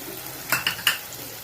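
Ground green chili paste sautéed in a pan for Chettinad-style goat trotter paya, three quick stirring scrapes over a soft background sizzle, close by.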